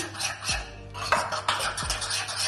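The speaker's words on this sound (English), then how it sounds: "Give that a good stir." Greek yogurt and hummus being stirred together in a bowl: a steady run of scraping and clinking of a utensil against the dish, close and fairly loud, with no talk.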